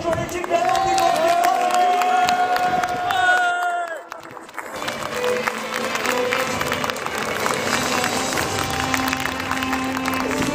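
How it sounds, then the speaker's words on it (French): A large crowd at the Hippodrome de Paris racecourse applauds and cheers outdoors during a Grand Prix ceremony, with a brief dip midway, while amplified voices and music carry over the clapping. "On applaudit encore l'équipe de la Nord du Monde."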